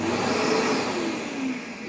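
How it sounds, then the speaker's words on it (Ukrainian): A steady droning vacuum cleaner runs continuously with a broadband whoosh and a faint wavering tone, no voices. "є два режими роботи пилососів"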